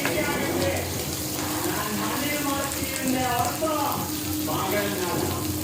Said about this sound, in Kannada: ಎಣ್ಣೆ ಜೊತೆ ನೀಟಾಗಿ ಫ್ರೈ ಮಾಡ್ಕೊಳ್ಳಿ ಚೆನ್ನಾಗಿ ಮಿಕ್ಸ್ ಮಾಡ್ಕೊಳ್ಳಿ